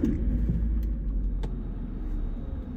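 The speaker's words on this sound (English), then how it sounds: "Let's start the car." A 2010 Jaguar XF engine starting up and settling into a steady low idle rumble, close and continuous with no talking.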